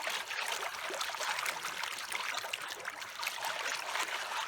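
Water splashes and trickles steadily as a shovel is washed off while sampling for gold, a close continuous rushing wash with no voices.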